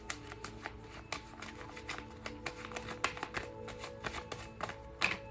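Tarot cards shuffled and drawn from a deck in a daily reading, a steady run of soft riffling taps and flicks with a few sharper snaps, close and quiet with no talk.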